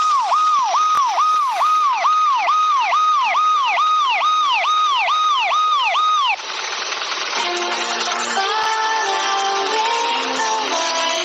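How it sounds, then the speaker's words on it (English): Ambulance siren wailing loudly and close in a rapid repeating up-down yelp for about six seconds, then switching abruptly to a different tone pattern with traffic noise underneath. "hey wait ambulance"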